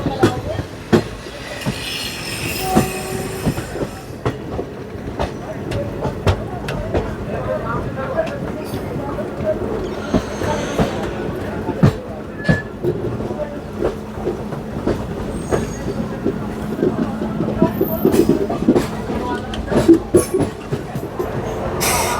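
A Bandra-bound passenger train pulls in and halts at a junction station on the Delhi–Jodhpur route, with a steady low rumble, intermittent clanks and rail clicks throughout and a voice speaking over it.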